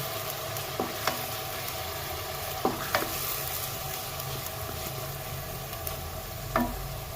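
Asafoetida sizzles in hot oil for a tempering alongside onion paste, a steady close frying hiss broken by a few sharp taps of a spoon stirring the pan.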